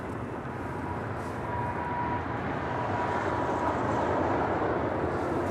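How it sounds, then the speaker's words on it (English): Broad, steady jet roar of a Cayman Airways Boeing 737 MAX 8 departing LAX, heard from a distance as a continuous wash that swells slightly over several seconds, with no talk. "Next departure here on the south side, Cayman Airways, flight 481, heading to Georgetown, and at 737 MAX 8"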